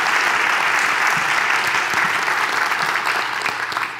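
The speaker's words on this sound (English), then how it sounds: "give them a round of applause" Steady, loud audience applause for the founders at a college tenth-anniversary event, a dense, even wash of many hands clapping without a break and tapering slightly at the end.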